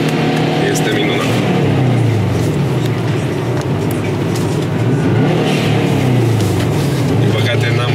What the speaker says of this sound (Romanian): Mașina mea face mult zgomot